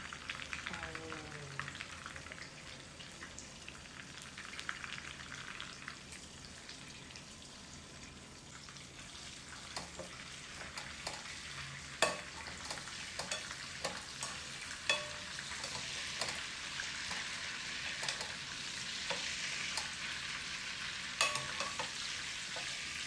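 Egg-battered Thai long eggplant fries in a pan with a constant hissing sizzle, joined by scattered sharp clicks and scrapes from stirring or turning the pieces.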